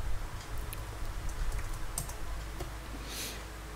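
Fingers type on a computer keyboard, tapping out a short burst of key clicks close by over a steady low room hum, with no talking.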